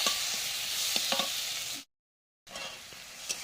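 Spice paste with turmeric and chili powder sautéing in oil, a steady broadband sizzle with a few soft utensil clicks, cut by a half-second gap of silence before the frying resumes.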